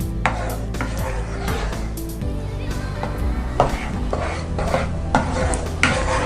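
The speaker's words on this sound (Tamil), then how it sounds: "இது பொறுமையாக தான் கிளறணும், இல்லைன்னா அடி பிடிச்சிக்கும்." Thick mango halwa is stirred slowly in a pan, a series of scraping and clacking strokes of a spoon against metal with irregular knocks, close and fairly loud, with faint background voice.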